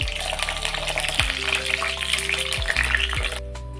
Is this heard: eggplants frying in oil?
yes